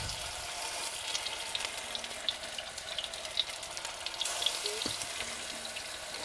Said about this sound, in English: Sizzling away already.